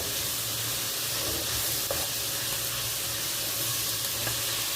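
Okra sizzles steadily in a frying pan as it is stirred, a close, constant hiss with faint scraping and knocks from the utensil.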